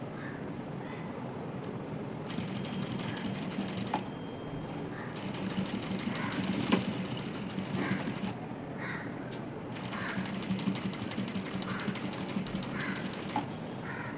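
A sewing machine stitches lace onto a frill sleeve with a single-toe presser foot, running in steady mechanical bursts broken by short pauses, close by and moderately loud, with no talking.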